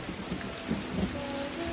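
Steady rain falling outdoors, a soft continuous patter with a faint low rumble beneath, heard alone for a brief moment.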